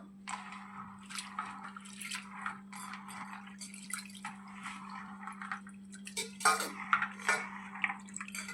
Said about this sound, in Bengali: ডালটা 2-3 বার পরিষ্কার জলে ধুয়ে নেব।